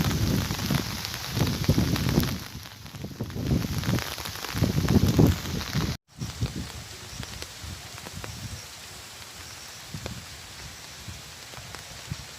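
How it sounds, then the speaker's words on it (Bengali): Steady rain patters down onto a pond, a dense hiss of drops striking water and surfaces, with a brief cut midway and the shower continuing evenly afterward. "এই দেখেন কত সুন্দর বৃষ্টির ফোঁটাগুলো পড়তেছে পুকুরের মধ্যে।"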